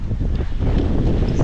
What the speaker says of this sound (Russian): Вот это ветрище, а!